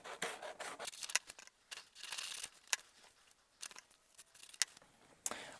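Scissors roughly cutting paper for a junk journal, close, faint, uneven snips and crisp paper rustles in short bursts, no talking.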